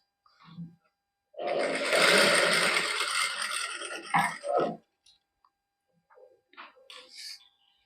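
A sewing machine stitching fabric in a Punjabi boutique runs in one steady, loud burst of about three seconds. Short bits of a voice talking come before and after it.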